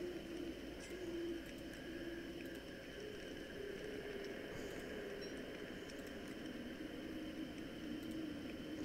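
Birds coo in the video game Don't Starve, soft repeated cooing calls at a gentle rhythm over a faint steady background hum, with occasional clicks.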